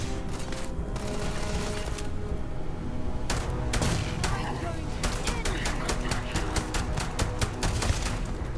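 Pistol fire in the space game Starfield, a string of sharp, rapid shots cracking out in quick bursts over a dense, busy background of game noise.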